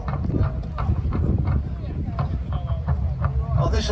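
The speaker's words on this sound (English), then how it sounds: "here are Waller's own horse" Cavalry horses' hooves thud and clatter at a Sealed Knot Siege of Gloucester 2023 English Civil War reenactment, a busy close clip-clop running beneath people talking.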